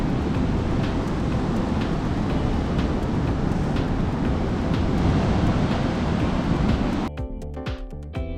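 Strong wind buffets the microphone on a Goa beach under an overcast rainy-season sky, a dense continuous roar with a faint surf wash, ending abruptly near the end.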